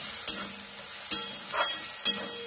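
A spoon stirs a vegetable Manchurian mixture of cabbage and spices in a bowl, producing four soft, evenly spaced scraping clinks against a quiet background.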